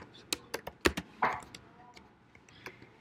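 Code is typed on a computer keyboard: a handful of close, crisp key taps come in a quick irregular burst, then sparser soft clicks follow in a quiet room.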